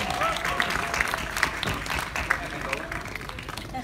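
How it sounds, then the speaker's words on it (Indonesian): A crowd at a film press conference gives steady applause, with scattered sharp claps over a dense wash of clapping and room noise. "Kita berikan tepuk tangan untuk Arif Didu."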